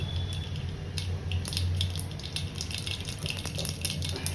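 Five spoonfuls of mustard seeds sizzle and crackle in hot oil for kantola sabji, a steady frying hiss broken by quick popping bursts close up.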